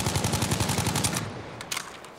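Rapid automatic gunfire in a Battlefield match, a steady burst of closely spaced shots for about a second and a quarter, then a few scattered louder reports after a pause, with no voices.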